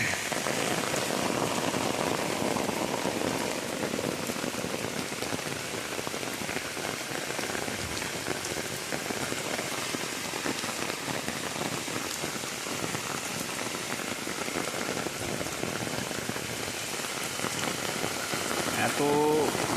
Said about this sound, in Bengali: প্রচণ্ড বৃষ্টি হচ্ছে।